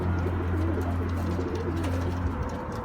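Pigeons coo softly and steadily during a water bath, a low continuous murmuring from close by with no talk over it.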